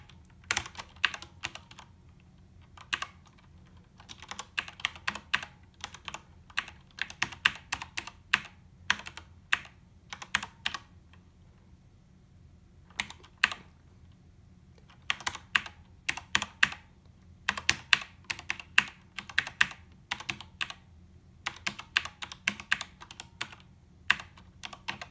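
Keys clatter on an Altair 680 computer keyboard as program bytes are entered, bursts of crisp close taps in uneven runs separated by short pauses, no one speaking.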